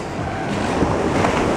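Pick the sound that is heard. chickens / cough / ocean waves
ocean waves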